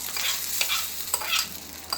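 Curry leaves dropped into hot oil for a chutney tempering, a bright continuous sizzle and spatter with a few sharper pops, close and alone with no voices.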